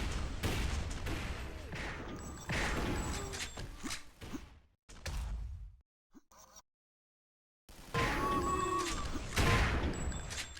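Rifle shots crack through a competitive video game match in bursts, with dense firing at the start and again near the end, separated by a short near-silent gap.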